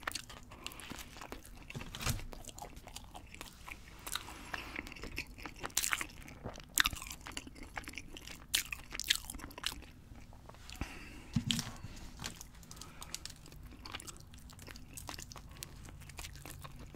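Tuna sandwich being eaten up close, with soft repeated bites, crunchy chewing and moist mouth sounds in an irregular rhythm throughout, plus occasional crinkling of packaging, all quiet and without talk.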